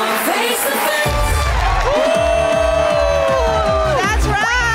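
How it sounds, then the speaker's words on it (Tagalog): Studio audience at a Filipino daytime TV talk show claps and cheers loudly, a dense crowd roar with whoops blended with bright show music and an energetic host voice throughout. "Lakas sa palakpakan at sigawan!"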